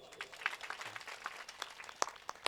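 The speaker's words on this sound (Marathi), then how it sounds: "बर एकदा टाळी वाजवा मग" An audience at a Marathi kirtan during an Akhand Harinam Saptah claps on request, a light scattered patter of hands heard from a short distance, fairly quiet and brief.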